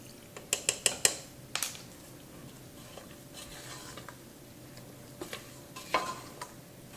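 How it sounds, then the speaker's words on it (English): A spoon stirs vanilla extract into a thick fudge mixture in a pot, giving a quick run of sharp clinks and scrapes, then quieter, scattered scraping strokes. "Now I'll mix in 2 teaspoons of vanilla extract."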